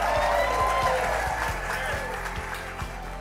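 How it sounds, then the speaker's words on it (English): Wedding guests clap and cheer for a newly married couple, a continuous moderate applause bed under a faint, rhythmic low thumping. "let's give a cheer for the married couple"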